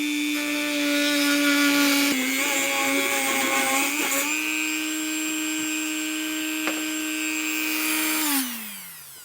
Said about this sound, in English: I'm just going to use a rotary tool with a cutting blade.